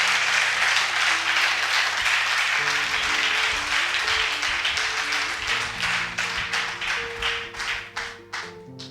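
Church congregation claps together, a loud dense burst of hands that gradually thins into scattered, rhythmic claps as it tapers off, with a sustained organ or keyboard chord droning underneath.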